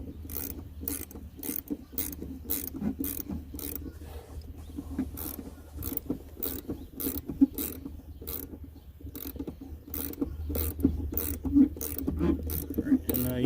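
Rapid ratchet wrench clicking while tightening a 15 mm nut on a C6 Z06 front shock mount fitted to a C5 Corvette, reached from inside the wheel well; a steady, close series of sharp clicks over low metallic rubbing, continuing throughout with no talk.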